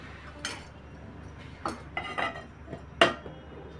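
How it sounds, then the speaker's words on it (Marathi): A metal spoon clinks several times against a pan heating on a medium flame as two to three spoons of oil are added, sharp separate clinks up close in a quiet room. "मी मिडियम फ्लेमवरती पॅन गरम करत ठेवला आहे त्याच्यामध्ये आपण आता दोन ते तीन चमचे तेल टाकून घेऊ"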